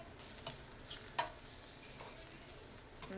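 Spinach sautéing in oil in a pan over low heat, giving a soft, steady sizzle with a few brief louder crackles and stirring clicks scattered through.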